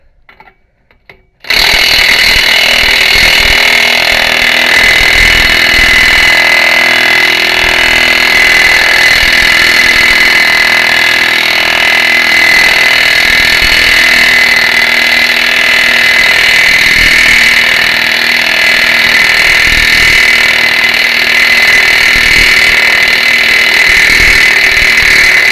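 A Snap-on air hammer working a CV axle loose on a Ford Explorer rear knuckle: after a short quiet moment it bursts into loud, rapid, continuous pneumatic hammering that rattles on close up for over twenty seconds.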